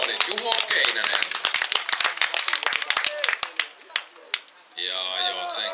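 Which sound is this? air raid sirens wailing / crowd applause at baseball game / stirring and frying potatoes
crowd applause at baseball game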